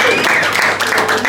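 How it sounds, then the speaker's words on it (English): Audience at a boxing press conference clapping briefly, a short burst of mixed hand claps at close range with a voice speaking over it. "Give him a round of applause,"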